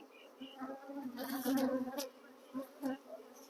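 Bees buzz inside a moved box, a loud close swarm hum that swells to a peak midway and then breaks into shorter bursts.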